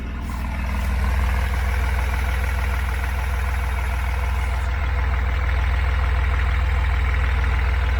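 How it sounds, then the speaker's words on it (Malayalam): An Ashok Leyland Dost pickup truck engine idles steadily and close by, a continuous low diesel drone with a slight knocking rumble that holds level throughout, with no talking. "വണ്ടി സ്റ്റാർട്ട് ചെയ്തിട്ടുള്ള സൗണ്ടാണ് കേൾക്കുന്നത്."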